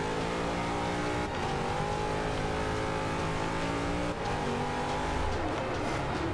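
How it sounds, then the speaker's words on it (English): A V8 Supercar race engine in the Forza 5 video game roars continuously, its revs rising and dipping through gear changes, loud and close with a steady mechanical drone and no talking. "What I like about this car is the engine noise."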